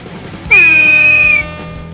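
A single sharp, shrill whistle blast starting a race lasts about a second, loud and close, over faint background noise.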